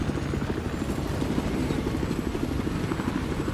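An attack helicopter in the video game Battlefield 4 gives off a steady, loud, rhythmic rotor thump that runs continuously, with no voices.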